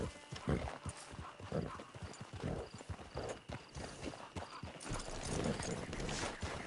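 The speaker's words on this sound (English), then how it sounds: "Get your horse." Horse hooves clip-clop in a steady walking rhythm in Red Dead Redemption 2, close and fairly loud over a busy background of game ambience, with a brief whinny-like touch.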